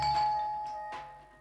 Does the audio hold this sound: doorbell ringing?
yes